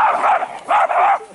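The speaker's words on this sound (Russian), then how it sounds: "Сумасшедшая собачка Бусинка." A small dog gives a few quick, loud, high-pitched barks close by, two or three yaps in rapid succession outdoors in a park in the evening.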